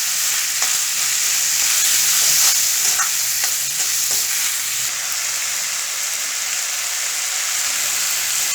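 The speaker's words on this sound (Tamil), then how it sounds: "தக்காளி சேர்த்து நல்லா வணக்கணும்." Tomatoes sauté with salt in oil and ginger garlic paste for a chicken karahi, a loud close hiss of frying with scattered stirring scrapes across the clip and no voices.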